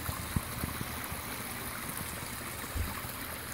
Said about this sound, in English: But you can hear the waterfall.